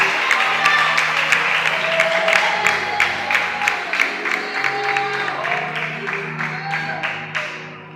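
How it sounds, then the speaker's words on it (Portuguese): A church congregation applauds during a sermon, steady dense clapping filling the space with crowd voices mixed in, fading slightly toward the end. "E bate a salva de palmas para aquele que reina"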